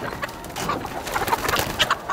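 Chickens on open pasture where cattle have just grazed, giving a steady stream of soft clucks and short chirpy calls from several birds close by, with no talking.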